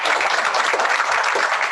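Audience applause at a state association board of directors meeting, a dense, even patter of many hands clapping at once, loud and continuous with no voices over it.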